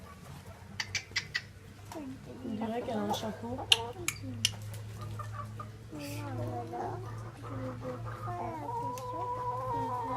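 Chickens cluck and chatter softly on a farm among other animals, sounding as scattered short calls over a low steady hum. People talk throughout.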